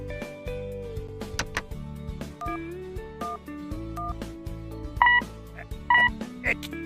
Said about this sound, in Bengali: ফোনটা তো লাগছে না, কক কক করছে, সিগন্যাল পাওয়া যাচ্ছে না।